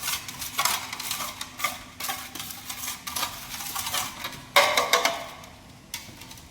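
A scraper scrapes and stirs tile grout chemical in a metal pan: repeated rhythmic scraping strokes at close range, sharp and gritty, each a short burst, with no talking.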